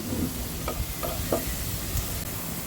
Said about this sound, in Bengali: তেলের মধ্যে দিয়ে দিলাম এখন রসুন কুচি